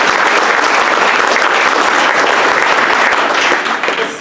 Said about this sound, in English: yes, you can clap at that.